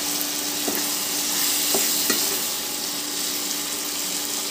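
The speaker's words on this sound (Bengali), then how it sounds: "আমি 2 মিনিট এটাকে চাপা দিয়ে আমি একটু মশলাটাকে কষে নেব।" Spice paste frying in a pan for a fish curry, a continuous sizzle broken by a few sharp spatula knocks and scrapes, close with no talk.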